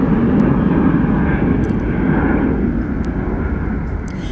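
A loud, steady roar of a passenger jet passing overhead, broad and rumbling, fading slightly toward the end.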